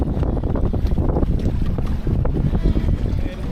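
Strong wind buffets the microphone aboard a small gaff-rigged trailer sailer cruiser, a loud, continuous, gusting roar with water and boat noise beneath.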